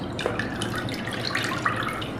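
Tap water runs steadily as defrosted meat is washed in a sink. The close, continuous splashing carries occasional drips and gurgles.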